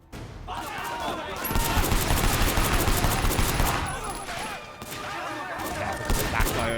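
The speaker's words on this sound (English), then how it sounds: "I like using the pistol. Because we got some long-range shooting to do here." Pistol shots in the open-world action game Sleeping Dogs, rapid loud cracks fired in quick succession over dense combat noise, nearly continuous with a short lull partway through.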